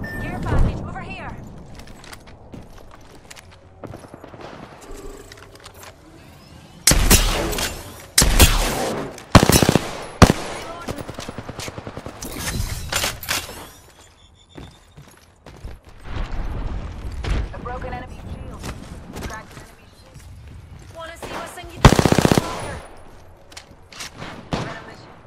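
Bursts of rapid automatic gunfire in the video game Apex Legends, several loud fusillades separated by quieter stretches of mechanical clicks and in-game voice lines, with a player talking throughout.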